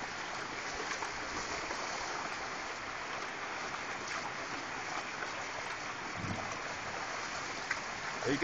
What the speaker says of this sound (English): You can see the water run down.